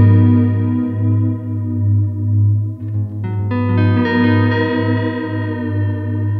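Guitar through a Belle Epoch Deluxe echo pedal with deep modulation, notes smeared by heavy chorus-like pitch detuning and repeating echoes, a thick wavering wash with new notes entering midway, no voices.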